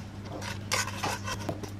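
Flour, cocoa powder and baking powder stirred together in a bowl, soft rubbing scrapes with a few light clinks of a utensil against the bowl over a steady low hum.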